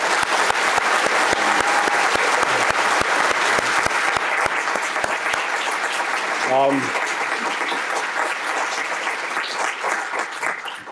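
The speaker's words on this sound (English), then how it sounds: "I'm going to clap" Sustained applause from a conference audience at a game developers' closing keynote, loud dense clapping with crisp individual claps in front, while a voice speaks over it and a brief whoop rises midway.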